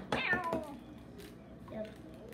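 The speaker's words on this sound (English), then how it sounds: "There's a cat in here." Cats meowing and yowling as a couple of them fight indoors, a few loud close meows early then fainter scuffling cries, with a voice briefly heard.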